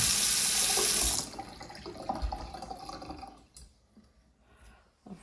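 A house tap runs hard for about a second and then shuts off, leaving a few faint drips and trickles in a quiet room.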